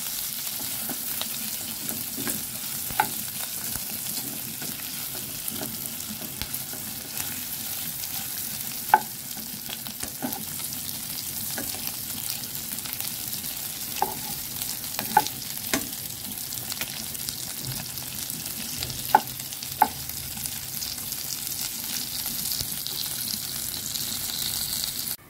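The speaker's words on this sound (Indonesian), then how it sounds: "aku pelan-pelan gorengnya pakai minyak" Chicken slowly frying in oil over low heat for soto ayam, a quiet steady sizzle with occasional soft pops and stirring clicks throughout, no voices.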